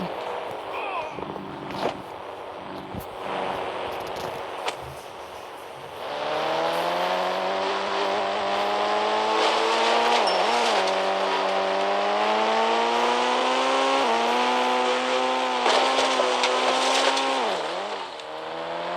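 A vehicle engine in the Indian Bike 3D video game drones with tones that rise and fall as it accelerates and revs through gears, loud and continuous with brief squeal-like bends, after some quieter game noise at the start.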